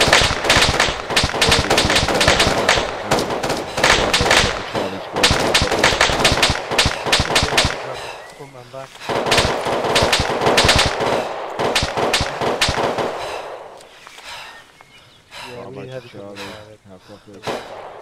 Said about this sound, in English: He's firing at friendly!